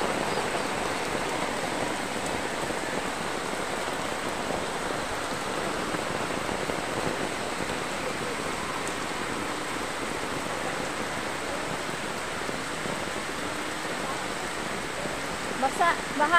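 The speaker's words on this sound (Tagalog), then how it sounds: "Nako, lakas ng ulan." Heavy rain pouring down during flooding around a house, a dense, steady hiss of downpour that stays loud and unbroken throughout.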